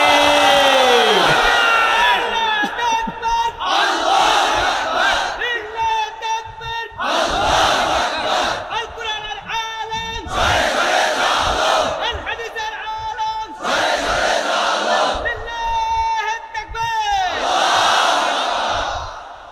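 A large crowd at a religious rally roars a takbir in unison, about six or seven long, loud chanted shouts in a regular rhythm, each separated by a brief lull.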